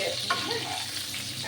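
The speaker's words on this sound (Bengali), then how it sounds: "পটলগুলো প্রায় ভাজা ভাজা হয়ে গেছে" Pointed gourd (potol) pieces frying in a pan and being stirred, continuous near sizzling with soft scraping and tossing sounds throughout.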